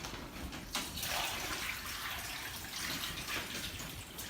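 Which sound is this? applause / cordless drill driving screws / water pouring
water pouring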